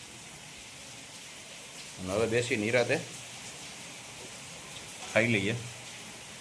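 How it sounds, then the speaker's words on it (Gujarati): Steady rain keeps up a soft, even hiss for the whole clip while someone speaks in two short bursts over it. "બરાબર વરસાદ ચાલુ છે"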